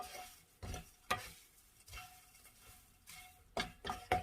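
Seasoned laver (gim jaban) is stirred and tossed in a pan with the heat off, producing faint, intermittent dry scraping and rustling strokes in irregular bursts over a quiet background.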